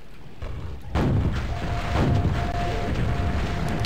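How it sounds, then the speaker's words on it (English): Rumbling blasts and booms from the video game Quake, with a sudden loud burst about a second in followed by sustained rolling explosion noise and repeated thuds. "this level has lots of explosions"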